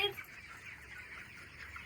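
Chickens cluck softly in a steady murmur on a poultry farm, a brief higher squawk at the start, fairly quiet and nearby.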